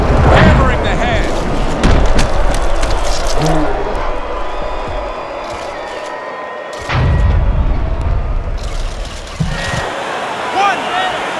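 Boxing in the video game Fight Night Champion, a simulated bout between Raymond Ford and Manny Pacquiao, with heavy thudding punches to the head landing over loud arena crowd noise while a commentator talks throughout.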